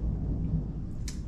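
Low thunder rumbling through a thunderstorm, a steady deep roll that fills the short stretch, with a brief brighter crackle near the end.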